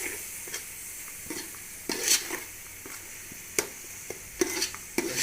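Pumpkin and potato pieces roast in a pan with coriander and turmeric powder, a steady sizzle under repeated sharp scrapes and clinks of a stirring spoon, close and moderately loud.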